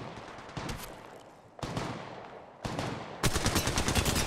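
Gunfire in the mobile battle royale game Apex Legends Mobile: several loud bursts of rapid automatic shots separated by short pauses, ending in a sustained rattling volley, with no talking.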